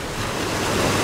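Sea waves wash along the Aegean coast at Corinth, Greece, a steady broadband rush of surf with a slight swell in loudness, brief and without voices.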